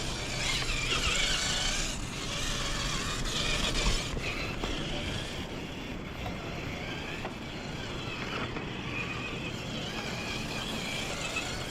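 Axial SCX10 RC crawler on a 2S pack driven at full throttle over rocks, a steady whirring motor and drivetrain whine with scrabbling tyres and clattering mechanical noise throughout, fairly close and continuous.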